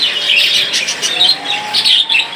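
Caged Australian doves and other pet birds chirp and call in loud, overlapping bursts nearby, forming a continuous lively chatter.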